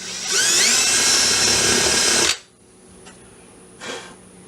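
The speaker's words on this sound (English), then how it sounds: "So what I want to do when I drill at an angle, I start straight up and down." A loud, high-pitched drill whine runs steadily for about two seconds while boring an angled hole, then cuts off abruptly, leaving faint room noise with a couple of small knocks.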